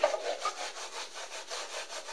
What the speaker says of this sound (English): That was the sound of frozen butter.